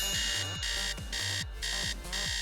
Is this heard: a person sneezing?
no